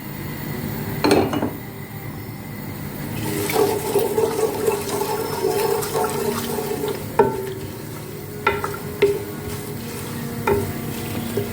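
Onions sizzling in a pot with whole spices such as green cardamom, cloves, black cumin and a bay leaf, a steady close frying hiss with occasional stirring scrapes and clinks of a utensil against the pot.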